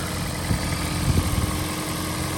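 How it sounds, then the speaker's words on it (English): The small gasoline engine of a 2007 Toyota Prius with Hybrid Synergy Drive idles under an open hood, a steady low rumble and hum with faint irregular ticks, heard close and without talking. "There's a little engine."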